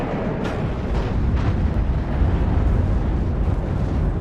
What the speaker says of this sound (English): Grenade launchers firing away.